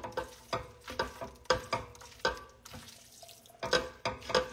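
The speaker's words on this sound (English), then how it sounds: "So I'm just gonna quickly toss my pasta over low heat just to" Pasta being tossed over low heat in a thick, creamy vegan alfredo sauce in a pan, giving soft repeated wet slaps and squelches in an uneven rhythm, close and fairly quiet, with no talking.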